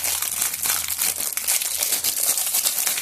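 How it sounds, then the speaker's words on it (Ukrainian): A small bag sealer is pulled from its crinkly plastic packaging, producing close, continuous rustling and crinkling with brief tearing-like crackles and no speech. "Дістанемо його з упаковки."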